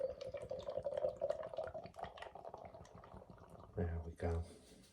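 Double dry-hopped pale ale pours and glugs into a glass in a short gurgling stream, close up, followed by a couple of louder splashing bursts.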